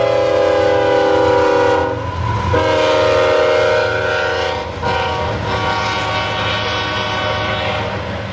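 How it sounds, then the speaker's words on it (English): K-845, a loaded phosphate unit freight train near Belleview, Florida, rolls past close by with a loud, sustained multi-tone horn blast over heavy rumbling, and the horn sounds again partway through. "K-845 is an occasional loaded phosphate unit train."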